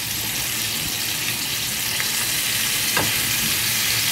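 Fresh smelt fry in a pan with a dense, steady sizzle and occasional stirring sounds. The frying is close and continuous, with no speech over it.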